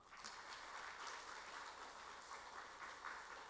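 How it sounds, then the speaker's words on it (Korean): Church congregation applauding together during a Sunday morning service, a steady dense clapping that holds evenly at a moderate level throughout without any voices over it. "박수하겠습니다."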